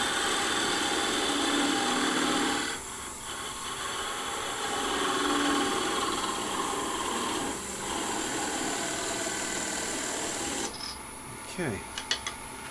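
A wood lathe with a parting tool cuts into a turned biscuit cutter, giving a steady continuous rasping scrape over the motor's hum, which eases briefly partway through and ends in a few sharper knocks.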